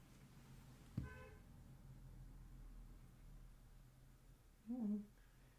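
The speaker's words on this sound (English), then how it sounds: "Somebody honked. I heard that one." A short, distant car horn toot, followed a few seconds later by a second faint honk, over steady outdoor background noise.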